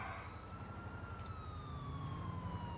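Police car siren in Grand Theft Auto IV, a faint, distant wail with slowly falling pitch over a steady low engine rumble, no talking.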